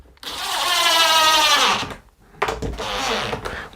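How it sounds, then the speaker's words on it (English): A power drill drives screws into a shaker-style cabinet door in a workshop: two close, loud whirring bursts separated by a short pause. "So let's get this drilled in,"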